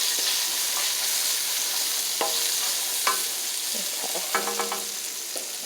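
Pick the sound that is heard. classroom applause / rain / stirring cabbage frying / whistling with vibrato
stirring cabbage frying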